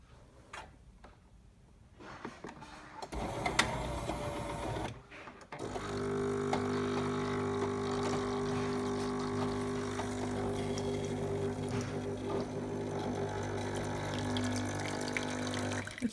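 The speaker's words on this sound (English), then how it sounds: "It's rinsing the machine." A Jura Impressa J85 bean-to-cup coffee machine runs its start-up rinse, a steady pump hum with water flowing through the spouts and frother, continuous and close after a few brief clicks and shuffles at the start.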